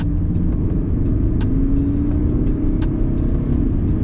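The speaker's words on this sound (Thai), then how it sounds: "ฟิลลิ่งเสียงท่อนะครับ มันมาหมดเลยนะครับ" A Mercedes-Benz C220d W205 2019 diesel engine revs hard and loud up close, its deep exhaust rumble swelling and holding steady with no talking.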